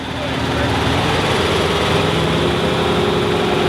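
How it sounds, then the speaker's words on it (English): A 1969 John Deere 4020 high crop tractor runs at a parade, its engine a loud, steady rumble throughout. "That's a 1969 John Deere 4020 high crop."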